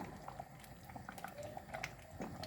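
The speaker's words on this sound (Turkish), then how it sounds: "ara ara ocağımızda kaynayan salçamızı tahta kaşık yardımıyla karıştıracağız" Thick homemade tomato paste bubbling in a pot on a stovetop, a steady close mass of soft popping blips and gurgles with no voices.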